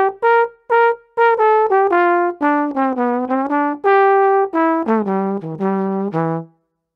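A jazz swing lick played plainly with just the notes and rhythm, no extra articulation, a solo melodic line of short and held tones moving up and down in uneven swung phrasing, clear and close with brief gaps.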